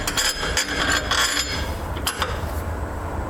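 Long carriage bolts are dropped into a vehicle frame while Air Lift LoadLifter 5000 air helper springs are fitted, giving a quick series of bright metallic clinks and taps, then a few more later on.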